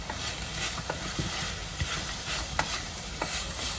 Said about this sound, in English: So you can hear it start to sizzle.